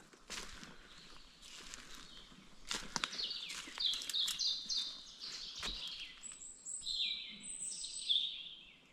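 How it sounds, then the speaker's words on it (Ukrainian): Birds singing in a mixed forest of conifers, birch and aspen in May, scattered chirps and trills at moderate distance over rustling footsteps through undergrowth, without talk. "О, як птахи співають, а."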